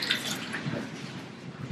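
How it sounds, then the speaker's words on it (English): Warm mineral spring water runs steadily from a spring outlet in Bath, a close splashing trickle with no voices. "So you can taste the water here from this spring, and Joerg is going to do it."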